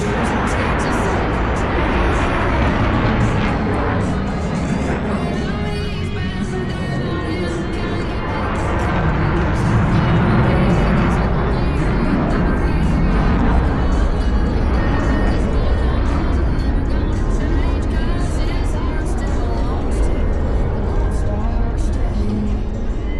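Blue Angels jets performing a barrel roll break at the Arctic Thunder air show, a loud, continuous roar of jet engines with broadband rumble filling the whole stretch, mixed with crowd noise.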